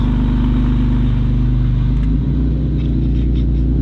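A 1994 Dodge Stealth's 3.0L V6 idles close by with a steady, deep rumble and even throb, shifting slightly in tone partway through, loud and continuous with no voices.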